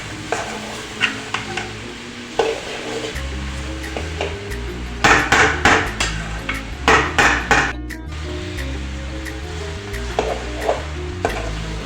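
Okra (bhindi) frying in oil in a pan, with a soft sizzle broken by irregular loud bursts of a utensil scraping and stirring against the pan.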